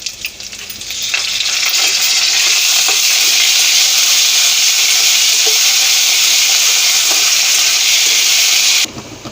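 Dried red chillies and curry leaves crackle in hot oil as a tempering for idli upma, a loud, dense sizzle that starts up after a quieter second, holds steady, then cuts off near the end.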